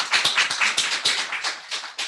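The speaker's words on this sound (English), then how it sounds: "Give a big, big round of applause." A small audience applauding at a World Ocean Day talk, a short burst of quick, close, rhythmic hand claps from a handful of people, lasting a couple of seconds.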